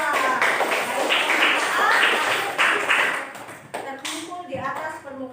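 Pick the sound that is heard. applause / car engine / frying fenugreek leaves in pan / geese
applause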